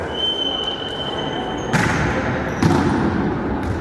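Volleyball serves at an indoor tournament, two sharp hand-on-ball smacks a second apart echoing through a gym over a steady background hum.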